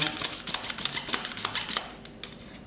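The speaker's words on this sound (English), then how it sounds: "you feed the film in there, and you clack it round" 35mm film clacked around a daylight developing tank reel, a quick run of sharp plastic clicks and ratchets, close and fairly loud, thinning out toward the end.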